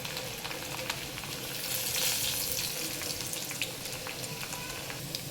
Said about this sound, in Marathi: लसूण छान तेलात फ्राय होऊ द्यायचं आहे